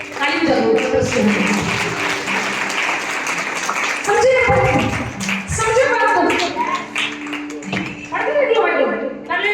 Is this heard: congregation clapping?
yes